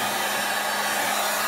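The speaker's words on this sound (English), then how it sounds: "can either use a heat gun or the hair dryer. You will need to warm up this film." A heat gun warms the adhesive film on a stainless steel speaker cover for a Toyota RAV, giving a steady, close, unbroken blowing hiss with no other sounds.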